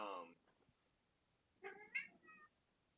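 An indoor house cat meows quietly nearby, once briefly and then in a longer, wavering call, with near silence between them.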